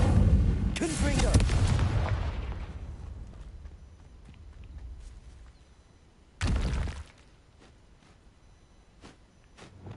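In Hogwarts Legacy, the Confringo explosive spell goes off as a loud booming blast that decays over a couple of seconds, followed by a second short sharp burst a few seconds later.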